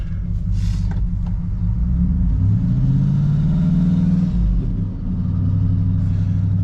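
Supercharged Range Rover P38 reversing after years off the road: a steady low engine rumble with a rising rev swell in the middle, close and continuous, no talk.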